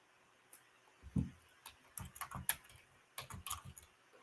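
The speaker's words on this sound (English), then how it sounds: "Do I need to still keep typing, Milky Way?" Light clicking of keys on a computer keyboard, irregular bursts of quick taps close by and quiet, with no voices.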